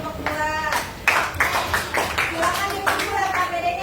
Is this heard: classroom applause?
yes